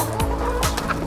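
Chickens cluck and squawk up close while they are fed treats, a dense run of short calls overlapping one another, loud and with no talking.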